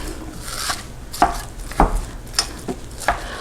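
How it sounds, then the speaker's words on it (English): A spatula chops and breaks up sausage browning in a pan, giving about five crisp taps against the pan at an uneven pace over a low background sizzle. "I have just kept chopping it with my spatula here so I get nice fine crumbles"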